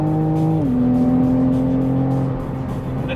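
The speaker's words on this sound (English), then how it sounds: "The tire noise somehow quite noisy. You get a lot of tire noise in here." Inside the cabin of a moving Toyota GR Supra, a constant roar of tire and road noise sits under a steady engine hum whose pitch drops briefly early on, loud and unbroken throughout.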